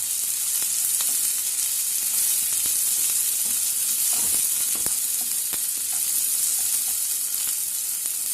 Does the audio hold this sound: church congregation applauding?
no